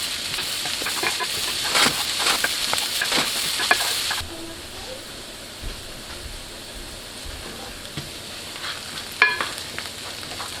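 Onions and garlic softening in a frying pan give off a faint, steady sizzle, a bit louder with stirring over the first few seconds and then quieter and settled.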